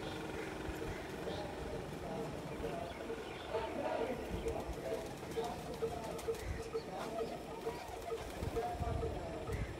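Pigeons cooing on a rooftop, soft repeated coos under a steady background hum, with faint voices talking nearby.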